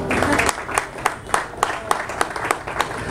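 An audience at a literary reading claps in a steady, rhythmic beat, with loud, evenly spaced hand claps over a crowd murmur, close and sustained.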